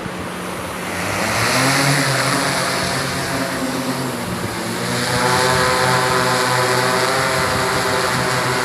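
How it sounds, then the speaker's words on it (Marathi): Loud, steady whirring drone of an agricultural crop-spraying drone's propellers over a field, with a droning hum that rises in pitch and swells, continuous throughout and close by. "हे आता तुमच्यासमोर चालू झालेलं आहे ड्रोन"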